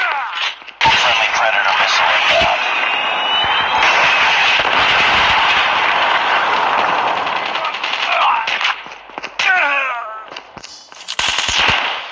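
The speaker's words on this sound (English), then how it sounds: "Predator missile on standby." Explosions from a Predator missile strike in Call of Duty Mobile, Frontline mode on the Scrapyard map, mixed into dense rapid gunfire and game effects, with loud continuous bursts and a voice speaking over the action.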